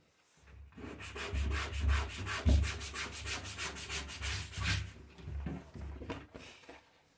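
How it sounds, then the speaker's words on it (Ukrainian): Leather is scuffed with coarse 60-grit sandpaper in a steady run of rhythmic rasping strokes, close and distinct, about a dozen back-and-forth passes with brief pauses at the start and end. "потрібно зробити шкіру шероховатою. Наждачка 60."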